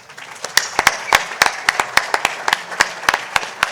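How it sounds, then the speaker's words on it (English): Scattered, distinct handclaps from a small group at an awards gala ring out in an uneven rhythm, each crisp clap standing apart over a quiet room background. "let's give all our award recipients one more round of applause"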